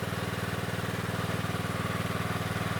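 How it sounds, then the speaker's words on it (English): A small portable fire pump engine runs barely above idle, giving a steady pulsing putter with an even rhythm, close by and alone. "The pump is barely above an idle, and this is what it's doing right now"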